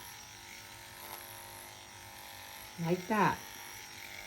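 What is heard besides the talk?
electric clippers grooming a Schnauzer's coat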